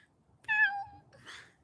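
A person imitates a cat's meow, giving a single drawn-out, clear mew followed by a softer breathy tail, close and alone with no other talk.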